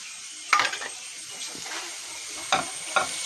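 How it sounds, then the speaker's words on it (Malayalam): Green chillies and ginger fry in a pan for vermicelli rice. A faint sizzle runs throughout, broken by a few sharp scraping stirs, close and without talk. "അതിനുശേഷം നല്ലതുപോലെ ഒന്ന് ഇളക്കി കൊടുക്കുക"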